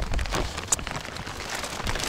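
Rain patters on surfaces outdoors during a November fishing trip, a soft uneven hiss with scattered drops and one sharp tick, no voices.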